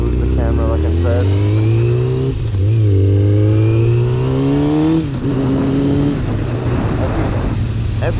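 A 2000 Kawasaki ZX6R engine rises and falls in pitch through repeated revs and gear changes while riding around the block, loud and close, with wind rush underneath.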